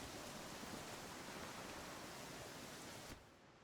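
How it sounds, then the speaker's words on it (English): Steady broadband rain hiss in the Pathfinder: Kingmaker game, a dense continuous wash that holds evenly for about three seconds before dropping away abruptly near the end. "it's still raining"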